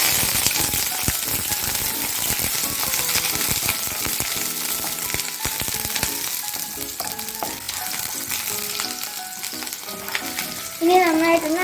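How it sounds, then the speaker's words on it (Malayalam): Onions, green chillies and curry leaves hit hot oil with popped mustard seeds for a pumpkin erissery, giving a loud crackling sizzle with sharp spattering pops and stirring clatter that settles toward the end. "നമുക്ക് ഉള്ളിയും മുളകും കറിവേപ്പിലയും ഇട്ട് കൊടുക്കാം."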